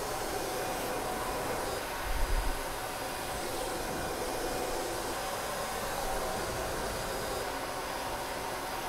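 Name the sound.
cordless hair dryer blow-drying hair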